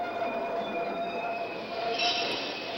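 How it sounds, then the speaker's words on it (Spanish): A train rumbles steadily along the rails, with high squealing wheel tones drawn out over a constant low roar and no voices. "acompañada de los estruendos del tren"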